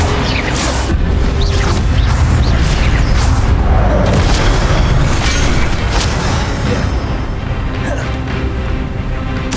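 In Hogwarts Legacy, the Incendio fire spell goes off in loud, dense booms and crackling bursts amid heavy combat noise that rumbles on continuously, with a voice faintly present underneath.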